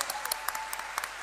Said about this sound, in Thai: ขอเสียงปรบมือเป็นกำลังใจหน่อยครับ